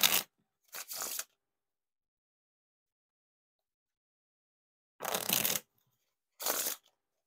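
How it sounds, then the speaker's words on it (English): Riffle shuffling of thin-stock Bicycle Glider Back playing cards: two quick fluttering bursts, a long silence, then two more crisp riffles close up, with no talking. "Now time for the riffle shuffle or bridge shuffle."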